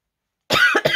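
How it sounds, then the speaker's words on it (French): After half a second of silence, a person coughs up close, three quick harsh bursts in a row, loud and alone. "Et ça y est, ça tousse."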